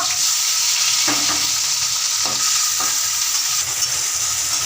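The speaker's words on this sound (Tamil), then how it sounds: "அதே கடாயில் நம்ம வந்து வெங்காயம் பூண்டு அப்புறம் வந்து தக்காளி போட்டுக்கோம்" Onion, garlic and tomato sauté in oil in a kadai for a pirandai thuvaiyal, giving a steady close hiss with a few stirring scrapes and no voices.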